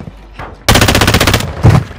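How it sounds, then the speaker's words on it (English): Rapid automatic gunfire in the Call of Duty DMZ video game on Ashika Island, a loud close burst of about three-quarters of a second followed by a second short volley. "You are taking effective fire."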